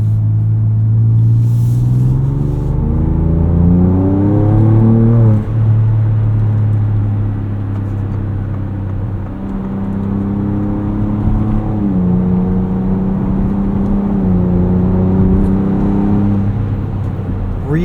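A 2024 Ford Ranger Raptor with a Ford Performance tune adding 50 hp, driven in sport mode, gives a loud, steady engine drone close up inside the cabin, its pitch climbing and dropping through gear shifts on an entrance ramp.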